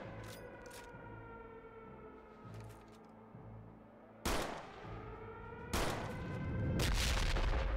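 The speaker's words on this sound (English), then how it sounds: "Explosion." Gunfire and explosions in the video game RealRTCW, with sharp bursts of shots, a heavy blast near the middle and more loud impacts toward the end over a ringing background.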